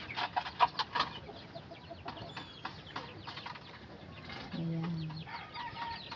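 Chickens cluck and chatter close by around a coop under construction, with short bursts of clucking early on and a brief spoken word amid the birds.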